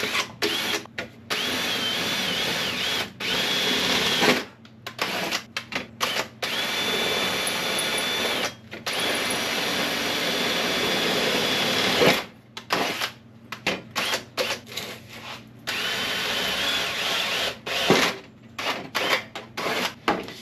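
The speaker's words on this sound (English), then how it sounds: "I'm gonna drill the rest of the holes." A power drill whirs loudly in long runs, drilling holes during powder coating oven assembly, stopping and restarting several times with brief pauses between bursts.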